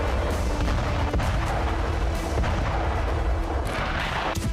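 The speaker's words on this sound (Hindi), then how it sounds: "टैंक और तोप बारूद उगल रहे।" Heavy, continuous battlefield fire in Gaza, with booming tank and artillery fire and rapid gunfire rumbling together, loud and dense throughout, with no pause.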